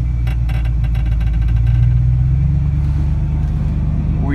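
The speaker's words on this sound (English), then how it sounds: "Can we put it in gear and move?" A 1984 Dodge Ram truck engine runs steadily in gear as the truck moves, a loud continuous low rumble with a slight rise in pitch, alone without talk.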